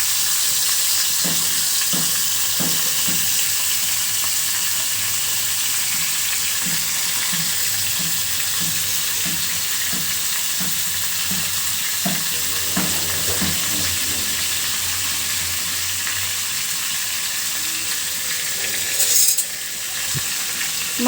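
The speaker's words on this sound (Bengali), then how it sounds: "মাছটা ভাজি করার জন্য এখানে কড়াইটা বসিয়ে দিয়েছি। তেলটা গরম হয়ে গেছে, দিয়ে দিচ্ছি" Fish frying in hot oil in a wok, a steady loud sizzle with continuous bubbling hiss throughout and occasional faint clicks, close up.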